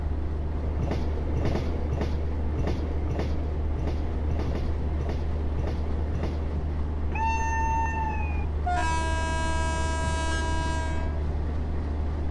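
A Rajdhani Express hauled by a WAG 9 electric locomotive rolls into Ambala Cantt station, steady rhythmic wheel clatter over rail joints, then a long loud horn blast sounding twice near the end.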